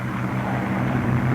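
Propeller aircraft engine droning steadily at takeoff as the wheels come up, a loud continuous low roar with no talk.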